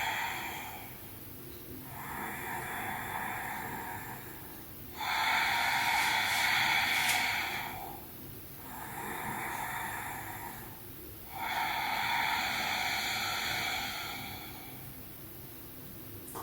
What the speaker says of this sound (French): et faire du bruit au centre de la gorge, à chaque inspire et à chaque expire